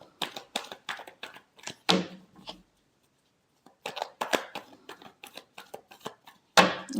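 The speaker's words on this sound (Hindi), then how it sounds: "last shuffle" Tarot cards riffled and shuffled by hand give quick bursts of snapping flutters, close and crisp, with a brief pause partway through and no talking.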